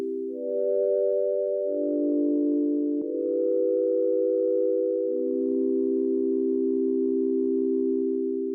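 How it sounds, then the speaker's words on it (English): Sustained synth chords from a music controller played in note mode, smooth pure tones shifting between a few held chord changes, close and clean with no talking. "Right now I'm in note mode, so I can play those chords that you just heard."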